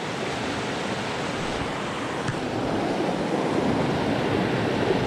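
A small trout stream in Virginia barrels along, its current producing a steady, full rushing wash of water close by, with no voices over it.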